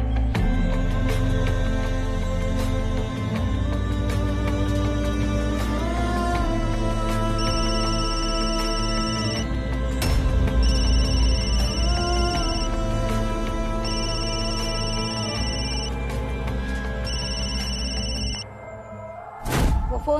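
A phone rings in a Hindi TV crime drama scene, a repeating electronic ringtone pattern in bursts over a loud continuous music bed, lasting most of the clip before cutting off near the end.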